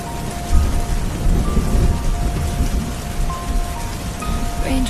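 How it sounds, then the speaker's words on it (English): Heavy rain pours steadily with low rumbling thunder rolling underneath, a dense continuous downpour heard alone and fairly loud for the whole stretch. "the rain keeps pouring down, like a never-ending sound."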